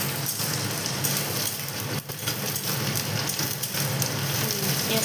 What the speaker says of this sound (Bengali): ওরপরে দিয়ে দিলাম পেঁয়াজটা ভাজছি